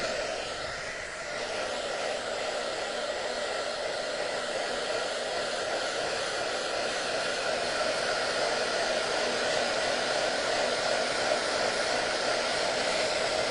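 A hair dryer blows steadily on freshly applied black wood stain, a constant loud whooshing hum that runs without a break, with no talk over it.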